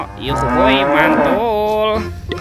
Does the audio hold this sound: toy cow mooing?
yes